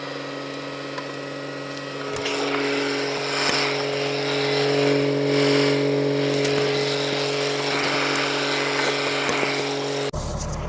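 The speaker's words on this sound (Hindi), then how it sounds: "ट्रैक्टर को पहले स्टार्ट करते हैं।" A farm tractor's engine is started and left idling, ready to run a snow blower for clearing snow: a steady, loud mechanical hum with a droning engine tone that holds for about ten seconds before cutting off abruptly.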